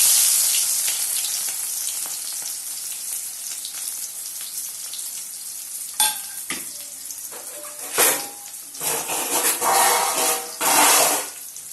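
Constant loud sizzling of onions sautéing in oil until golden, with bursts of stronger hissing and crackle toward the end as they are stirred.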